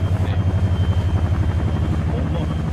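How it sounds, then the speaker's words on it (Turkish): A loud, close helicopter in Arma 3 with a steady thumping rotor pulse and droning engine, filling the short clip without pause. "Vay be. Helikopter hop koptu."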